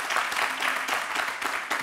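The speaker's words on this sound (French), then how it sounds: "j'aimerais même dire à tout le monde d'applaudir NCI" Studio audience applauding on a television show, dense steady clapping from a crowd, loud and close, with no talk over it.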